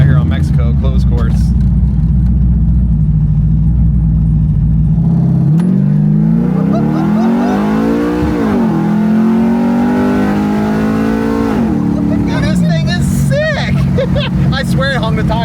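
Loud Chevy Jimmy drag truck on a closed course holding a steady roaring engine note, then accelerating hard with rising revs that climb through gear changes, with voices talking over the engine.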